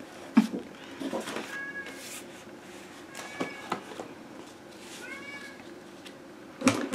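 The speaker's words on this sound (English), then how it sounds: "Can you hear my cat?" A house cat meows several times across a quiet room, a few short, clear calls spaced apart, with soft handling noises from a painting and stamping craft session in the background.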